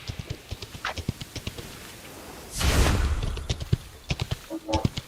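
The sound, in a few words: horse galloping hooves in BGMI video game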